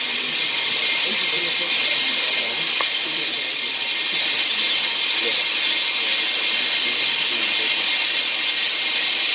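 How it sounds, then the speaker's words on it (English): PROCUT PFM 9.2 on-car lathe resurfacing a thin brake rotor that chatters badly, a loud continuous metallic grinding and hiss with a faint rattling texture, running steadily throughout at close range. "So you guys can see the chatter thing's on there"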